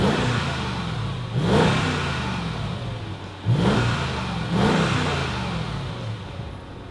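A supercharged V8 in a 2003 Mercedes-Benz CL55 AMG fires up and revs repeatedly, loud and close, with deep rising growls at regular intervals over a steady idle and no talking.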